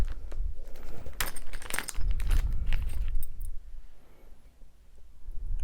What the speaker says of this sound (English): they're heavy and they make that nice sound, which is what you want when you've got some metal tokens